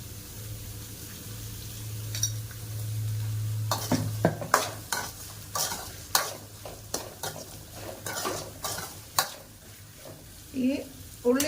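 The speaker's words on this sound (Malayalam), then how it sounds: "ഈ ഉള്ളി ഒന്ന് വഴന്ന് വരട്ടെ" Chopped onions with salt sautéing in a pan, a soft sizzle under repeated scraping strokes of a spoon against the pan, with a brief low hum early on and a few faint clinks near the end.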